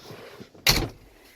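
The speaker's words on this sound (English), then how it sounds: "so I'm gonna close the door." The door of a 2019 Volvo VNL 760 truck closes in windy weather with a single solid thud, preceded by faint rustling, then a short fading decay.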